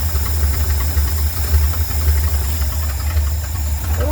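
A small engine idles steadily up close, giving a constant low throbbing rumble with a hissy, knocking texture, with no voices over it.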